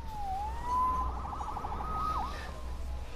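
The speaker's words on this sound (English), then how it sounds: "Saved by the siren." A police siren wails in the Spider-Man PS4 video game, a steady rising and falling tone with a quick warble near the end, moderately loud over a low rumble of background noise.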